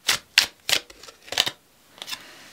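Tarot cards are shuffled by hand in several quick, crisp riffling bursts with short pauses between them, close and clear, with no voices.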